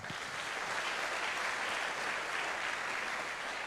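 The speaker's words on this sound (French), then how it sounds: "Acclamons très fort pour le Seigneur" A church congregation applauds in a continuous, even wash of clapping that sounds somewhat distant and moderately quiet.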